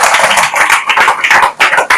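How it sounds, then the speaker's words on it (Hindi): A seminar audience at a Vestige program claps loudly and continuously for a volunteer called up to the stage, the clapping close and dense with uneven surges. "तरुण झा के लिए एक बार पहले जोरदार तालियां हो जाइए,"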